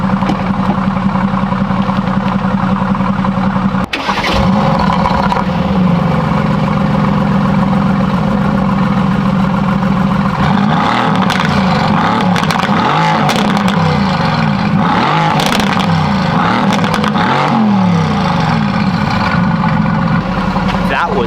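Mercedes-AMG GT S with stock exhaust except a secondary catalytic converter, in race mode, loud and close, idling steadily and then revving in repeated sharp bursts, with a brief voice.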